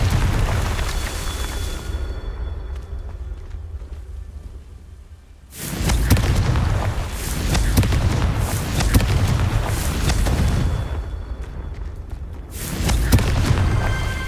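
Confringo fire-spell blasts in the Hogwarts Legacy video game: loud, dense booming explosions and crackling rumble that fill the scene, a brief quieter lull between two long roaring bursts.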